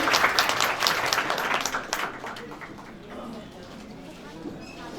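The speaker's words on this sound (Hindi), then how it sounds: "तालियों की गड़गड़ाहट से करें।" Applause at a welcoming ceremony for guests, a burst of clapping that starts fairly loud and thins out after a couple of seconds, with voices talking over it and a bird cooing nearby.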